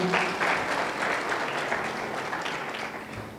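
At a panel discussion on finance sector liberalization, the audience breaks into a short burst of clapping. Many hands patter fairly close and steadily, easing off slightly toward the end with no talk over it.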